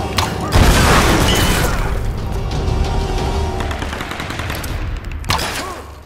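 Gunfire in the Tomb Raider 2013 video game as a barrel is shot: a loud burst of shots and a booming blast around half a second in, with sustained rumbling fire and a second sharp blast near the end, voices faintly under it.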